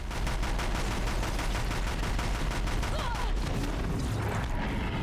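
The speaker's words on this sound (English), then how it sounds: "That gun actually mostly took care of it." Rapid bursts of gunfire from a mounted gun in Horizon Zero Dawn rattle on in a dense, fast stream, loud and close, with booms underneath.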